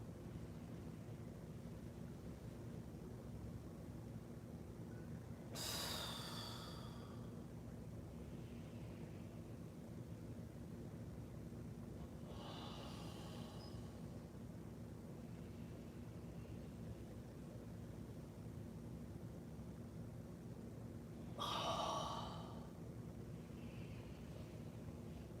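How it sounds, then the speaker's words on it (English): Slow breathing during qigong practice: three long, soft exhalations spaced several seconds apart, faint over a constant low background hum, with no speech. "Hold. Exhale. In. Hold. Exhale."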